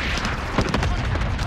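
A cluster strike explodes in Call of Duty, a dense wash of rumbling blasts with several sharp bursts stacking up in quick succession, loud and continuous across the moment.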